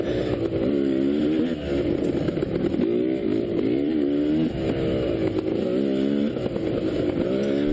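A dirt bike engine roars close by during a hare scramble trail race, holding a steady, loud drone whose pitch rises and falls as the throttle is worked, with no pauses throughout.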